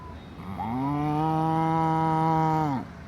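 A voice imitates a cow or buffalo: one long, steady, low moo held for about two seconds, then cut off.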